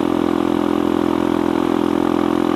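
A motorcycle engine with a vacuum carburetor runs loud and close at a steady, throbbing pitch, held on the throttle without a clear climb in revs.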